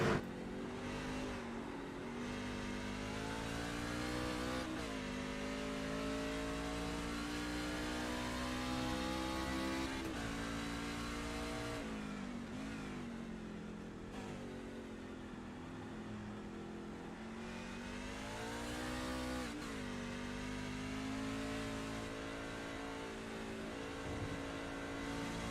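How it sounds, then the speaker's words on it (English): Onboard a Ford race truck lapping Watkins Glen, the engine roars loud and close for the whole lap, rising through each gear and dipping with brief lifts and downshifts, with no talk. "Let's ride one lap around the Glen inside that long MacArthur Ford Sparkle and Shine 98 of Nathan Nixon."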